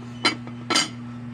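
Metal lid set back onto a pot of sinigang, two short bright clinks about half a second apart over a low steady hum, no talking.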